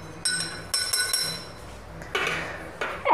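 Glassware clinking while red cabbage indicator solution mixed with toothpaste solution is stirred: a few bright, ringing taps and scrapes against glass, close and fairly loud.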